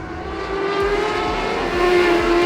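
Race cars lap a clay speedway, their engines roaring loud and near in a sustained drone that rises slightly as they pass, with a low rumble and wind buffeting underneath.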